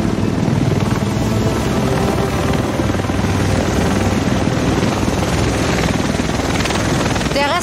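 Helicopter arriving in the video game The Division, a steady loud rotor and engine roar that fills the whole stretch, with faint voices underneath.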